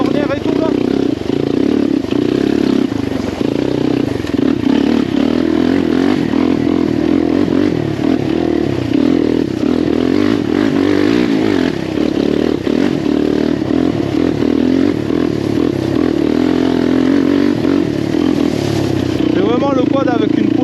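A Suzuki LTZ 400 quad, two-wheel drive, rumbling loudly and steadily as it drives through ruts, with clatter and scrapes under a person talking throughout.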